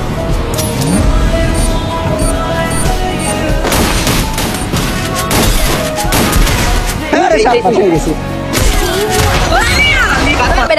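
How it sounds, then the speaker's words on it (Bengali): Dense, loud gunfire and explosions from a battle royale video game, rapid bursts and booms filling the whole stretch, with an excited voice speaking over the action. "শটে বার্লিনকে উদ্দেশ্য করে ছোড়া হচ্ছে ড্যামেজ বার্লিনের শটে"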